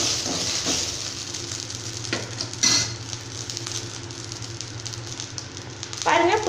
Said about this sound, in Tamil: புதினா இந்தளவுக்கு வதங்கினாலே போதும்.